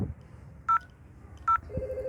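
Two short telephone dialing tones sound alone over a quiet line hum as a VoIP call is placed between two routers, followed by a lower steady tone near the end.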